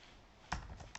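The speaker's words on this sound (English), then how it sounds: "So I will first try to type in the select" Typing on a computer keyboard, a few quick, close key clicks in a short irregular burst against quiet room tone.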